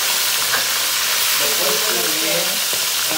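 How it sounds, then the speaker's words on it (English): Fish frying in a pan of hot oil for a Batangas-style ginataang isda, a dense, steady sizzle and crackle heard up close, continuous throughout with no talking. "Fry muna lang yung isda,"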